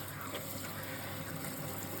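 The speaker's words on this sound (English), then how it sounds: "Make sure the water's not too hot. And basically rinsing it off" Water from a tap rinses through the lace of a non-surgical hair replacement system, a steady broadband flow with no pauses, fairly quiet and without voices.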